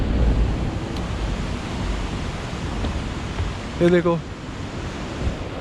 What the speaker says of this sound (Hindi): यहाँ से पानी निकल रहा है, ये यहाँ के गेट है नांगल डैम के।